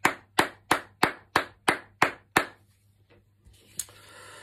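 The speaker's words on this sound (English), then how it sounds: "Can we give him a round of applause?" A school celebration assembly gives a short round of applause: eight sharp, evenly spaced claps ring out, then fade into quiet room murmur with a few faint stray claps.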